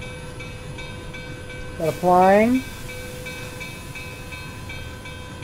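An Amtrak train rumbles along steadily in the Railworks simulator game, with rail noise throughout and a short spoken phrase over it.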